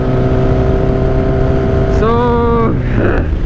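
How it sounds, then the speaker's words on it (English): A 2008 Suzuki GSX-R 1000 with a straight-pipe exhaust drones loud and steady up close, then its pitch sweeps upward as the revs climb near the end. "So this bike is just so loud."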